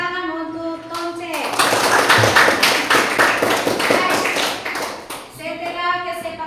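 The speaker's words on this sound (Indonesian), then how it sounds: "tepuk tangan untuk Tonce." A classroom of students clapping for a classmate, a dense burst of close handclaps lasting about four seconds between stretches of a teacher's talk.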